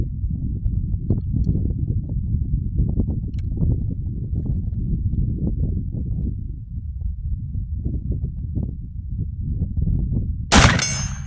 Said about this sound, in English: We're shooting at just under 100 yards.